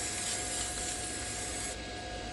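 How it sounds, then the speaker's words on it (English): Fourney anti-spatter spray from an aerosol can hisses continuously onto a metal welding table, a steady close spray lasting a couple of seconds with no talking. "I use this Fourney anti-spatter spray. So I'll spray my table down."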